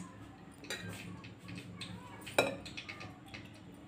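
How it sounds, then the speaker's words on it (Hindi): A potato pakoda batter with salt is mixed by hand in a bowl, giving soft wet stirring and a few clinks of a spoon against the dish, with one sharper knock partway through. "अब मैं सबको मिक्स करूँगी।"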